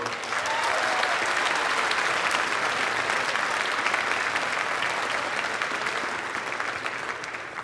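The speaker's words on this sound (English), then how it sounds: "So how about a round of applause for the Army?" A crowd claps at a high school pep assembly, a loud, dense and continuous roar of hands filling the room for nearly eight seconds, easing slightly toward the end.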